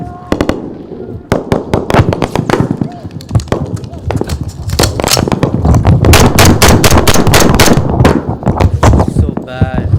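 Loud, rapid bursts of gunfire and sharp cracks in war combat footage, with troops taking fire about 500 meters outside a village. The shots come close together throughout, and voices are heard amid the firing.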